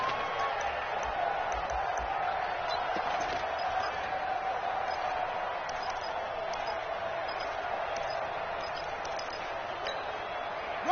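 A stadium crowd in a football video game on PS4 roars in a steady, dense wash of cheering ahead of a big third down, loud and unbroken, with no separate voices standing out.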